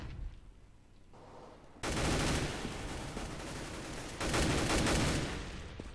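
Gunfire in Counter-Strike: Global Offensive on the de_mirage map, with bursts of rapid automatic shots in two clusters after a quieter stretch, fairly loud and sharp, with no talk.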